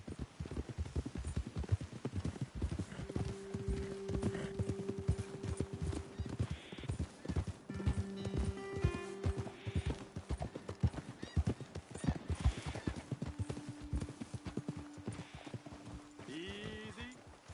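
Horse hooves clip-clop steadily in Red Dead Redemption 2 as mounts walk along, with a whinny near the end, all under a low tonal background hum.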